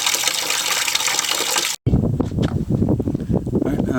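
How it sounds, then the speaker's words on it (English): Water gushes and churns as it flushes through a tank and out a drain, a loud, steady rush that cuts briefly to silence and then returns as splashing, gurgling flow. "Well, I'll flush it again."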